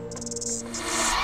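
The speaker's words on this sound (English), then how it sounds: "those are the cicadas trying to call to each other to find their mates" Cicadas buzz and trill steadily, a loud pulsing chorus with a high whine that stays continuous throughout.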